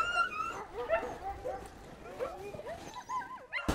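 Sled dogs, Siberian huskies and malamutes, yip, whine and bark excitedly in a close, restless chorus of overlapping high cries.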